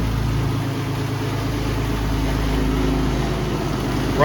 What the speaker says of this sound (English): Rumble seat Roadster here, running